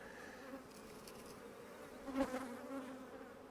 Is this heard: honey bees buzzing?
yes